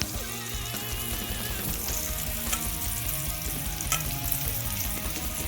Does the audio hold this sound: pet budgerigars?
no